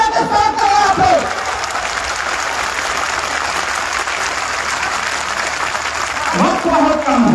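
A large crowd at a political rally claps and cheers loudly throughout, a dense steady roar of applause with a voice speaking briefly at the start and end.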